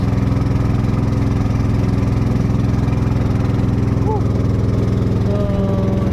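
A small 7.5 horsepower pumpboat engine runs steadily on a test run of a newly built boat, a loud, constant mid-pitched drone with a droning hum and faint whistling overtones, no talk over it.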